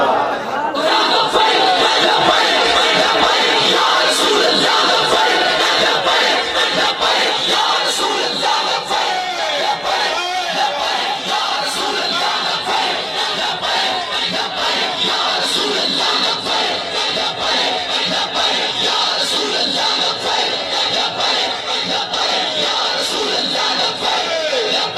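A large crowd at a naat gathering roars religious slogans in unison, loud and sustained, with yelling voices layered over a continuous dense din.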